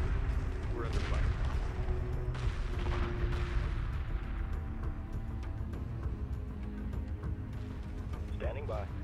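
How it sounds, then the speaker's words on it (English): Space battle in the Homeworld 2 Remastered strategy game, with continuous rumbling weapons fire and explosions blending into a dense, loud backdrop while radio-style unit voices speak over it. "Torpedo frigate under attack."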